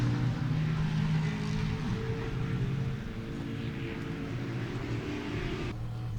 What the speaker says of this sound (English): hear the big cars coming around the back